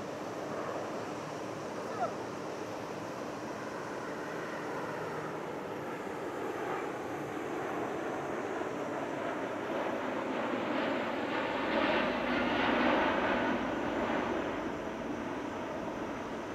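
An Airbus A350-1000 airliner at the Dubai Airshow gives a broad, steady jet roar that swells slightly toward the end, heard from a distance with outdoor wind noise and no voices.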